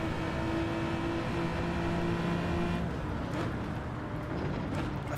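A race car in Gran Turismo 7 pulls hard through third, fourth and fifth gear, its engine droning loud and steady with rising whine, the tone dipping briefly at each upshift.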